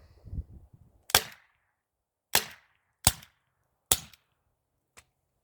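An Umarex TR50 non-lethal 17 joule CO2 pistol fires paintballs in four sharp, close snapping shots spaced about a second apart, followed by a fainter fifth pop, with silence between them.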